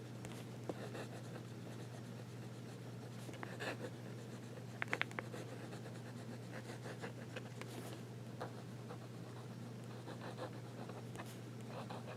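Jinhao X750 fountain pen writing on paper, faint scratchy strokes and soft taps over a steady background hum, close and quiet with no talk.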